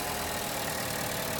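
A 2016 Buick Encore's EcoTech 1.4 liter 4-cylinder engine idles with a steady, even hum and fine mechanical chatter, heard near and unbroken.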